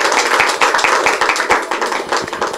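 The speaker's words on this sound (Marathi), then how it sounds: "एकदा जोरदार टाळ्या झाल्या पाहिजे मावशींसाठी." An audience applauds an aunties' bhajan group at a home Gauri arrival celebration during Ganeshotsav, with dense, loud, rapid clapping throughout.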